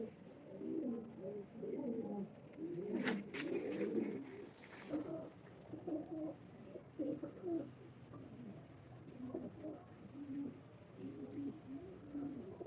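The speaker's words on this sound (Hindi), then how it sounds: "ये बड़ा बेहतरीन सेबे वाला कबूतर है" Rampuri pigeon cooing softly in repeated low throaty bursts, close but quiet, with a brief rattle of wing or cage noise early on and faint background hiss.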